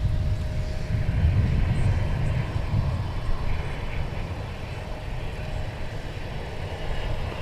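A FedEx heavy cargo jet from Memphis coming in to land at Minneapolis airport, a loud, steady engine roar with broad rumble that holds throughout, slightly stronger early on, with no voices.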